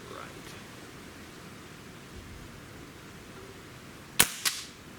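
A single sharp crack from a Beeman Raider air rifle shot outdoors in light wind, followed by a brief echo or second impact, standing out against steady breezy background hiss.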